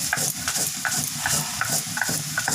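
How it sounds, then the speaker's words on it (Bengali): Whole cumin seeds, green chillies and garlic being ground together, a steady scraping, stirring rhythm of repeated strokes close up with no talk. "মশলার জন্য নিয়ে নিয়েছি গোটা জিরা, কাঁচা লঙ্কা আর রসুন। এগুলো একসাথে সব বেটে নিচ্ছি।"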